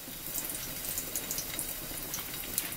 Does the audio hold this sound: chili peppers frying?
yes